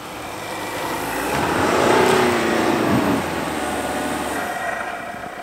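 A car's engine settles into a steady idle after the throttle is released during off-road driving in deep snow, with a broad continuous drone and a brief swell before it evens out.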